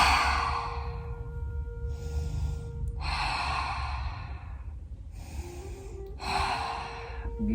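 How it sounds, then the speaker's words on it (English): Slow, deep breaths during gentle yoga done in bed, each long inhale and exhale clearly audible and close, repeated several times in an even rhythm with quiet pauses between. "Deep breath 3 times."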